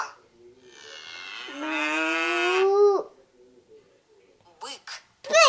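A long, loud cow moo rising in pitch plays from a tablet animal app, followed by a child and an adult speaking briefly nearby.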